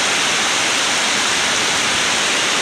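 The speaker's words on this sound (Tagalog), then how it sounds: "Malakas yung agos ng tubig, oh. Grabe. Lakas ng ulan dito sa Marikina River." Heavy rain and the fast-rushing Marikina River make a dense, steady roar of broadband water noise, loud and unbroken throughout with no voices.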